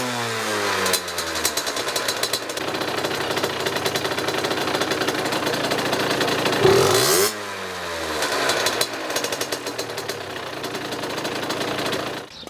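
A 50cc moped engine running during carburettor tuning, a loud close two-stroke buzz that revs up and down with a steady rattling idle between, rising sharply in pitch around the middle before dropping back.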